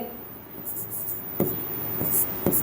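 Pen writing out an algebra answer on paper, soft close scratchy strokes with a few sharper taps, beneath faint whispery background sound.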